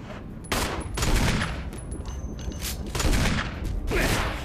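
Rapid gunfire in the Biohazard zombie game, a string of loud, closely spaced shots in several bursts, dense and near, with faint game tones in the background.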